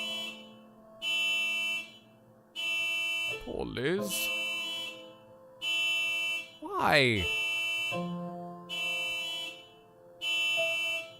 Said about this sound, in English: Oh, someone shut that car alarm off.